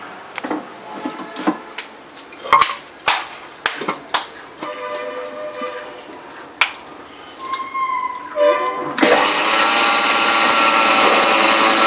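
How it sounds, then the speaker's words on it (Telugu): A kitchen mixer grinder grinding sugar for a homemade cake roars up loud and steady near the end, after a run of clinks and knocks of bowls and utensils being handled. "షుగర్ని మిక్సీ పట్టుకోవాలి"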